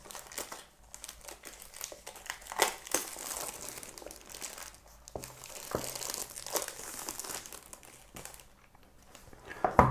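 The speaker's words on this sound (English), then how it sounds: "So let's start by removing this plastic cover." Crinkly plastic wrap is pulled off a Samsung phone box for the Aura Black version, giving close, loud bursts of crackling and crumpling that come in uneven waves.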